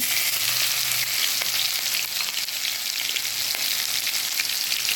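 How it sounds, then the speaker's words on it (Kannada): Mustard seeds, cumin and green chilies sizzle steadily in a few spoons of hot ghee as a tempering for shavige bath, a dense continuous crackling hiss close up with no voices over it. "ಸ್ಪೂನಷ್ಟು ತುಪ್ಪವನ್ನು ಹಾಕಿದ್ದೀನಿ ಸಾಸಿವೆ ಜೀರಾ ಕಾಯಿಮೆಣಸು"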